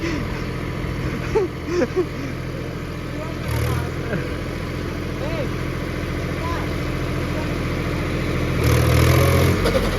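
A tractor engine idles and labours steadily with a rotavator attached, its note shifting around a gear change, while voices chatter nearby.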